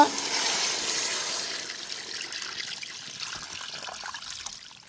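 Water pours steadily into a pot of washed quail being readied for boiling, a continuous splashing trickle that is strongest at first and eases slightly as it goes on.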